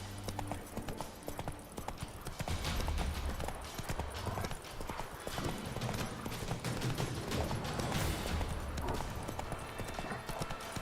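Roach the horse trotting in The Witcher 3: Wild Hunt, a steady clip-clop of hooves running throughout at a brisk rhythm, loud and close over game ambience.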